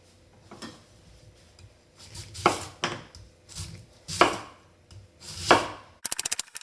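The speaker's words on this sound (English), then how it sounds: "cut your potato into small slices and add it into your pot" Knife chopping a potato into small slices: a few soft taps, then three louder separated cuts against a board, ending in a quick rattling burst of tapping, close and alone without talk.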